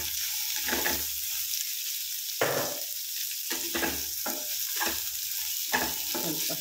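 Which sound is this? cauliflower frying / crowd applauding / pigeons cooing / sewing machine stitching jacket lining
cauliflower frying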